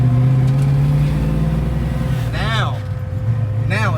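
Car engine droning and building revs on a test drive after new rear-end clutch packs were fitted, a steady close engine tone with a rising pitch sweep, overlaid by people talking.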